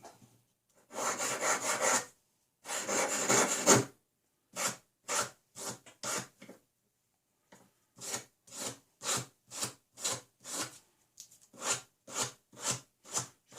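Close rasping strokes of a fine sanding stick filing the ends of small metal tweezers, two long scrapes followed by a steady run of short, rhythmic back-and-forth passes.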